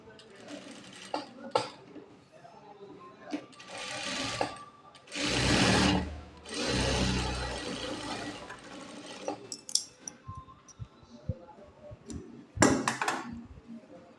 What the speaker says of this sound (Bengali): এরপর এই সাইডে সেলাইটা পাক দেওয়ার জন্য এটাকে এইভাবে নিয়ে আসবে